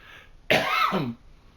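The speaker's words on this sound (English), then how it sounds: "I'm going to cough." A single short, forceful cough, close and clear against quiet room tone.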